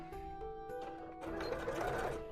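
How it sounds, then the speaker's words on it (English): A sewing machine stitches two plushie pieces together, its motor whirring steadily with a rising, busier rattle partway through, close up and with no talking. "I'm just going to sew together now the two sides"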